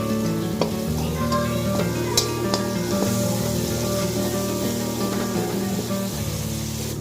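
Spices and sugar sizzle and fry steadily in hot oil for a pumpkin curry, with stirring scrapes and light clinks over a continuous close, bright hiss.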